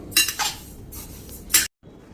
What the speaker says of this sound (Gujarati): હવે આપણે આ બધો મુખવાસને મિક્સ કરી લેશું